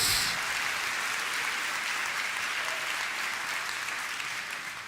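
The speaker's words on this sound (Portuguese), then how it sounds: "Pode dar salva de palmas ao Senhor," A church congregation applauds during a sermon, giving a steady, full wash of many hands clapping that holds evenly and trails off slightly at the end.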